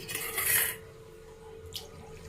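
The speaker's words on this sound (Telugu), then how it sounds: "ఇలా కొన్ని నీళ్ళు పోసుకొని ఇలా పోసేసుకోవాలి" A brief splashing pour of water goes into a pan of lemon-coated fish pieces for Andhra-style pomfret curry, then fades to quiet kitchen ambience with a faint clink of a utensil.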